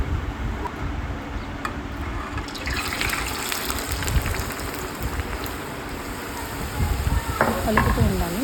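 Potato fries sizzle in hot oil in a home kitchen, a steady dense crackle throughout with occasional stirring, swelling louder near the end.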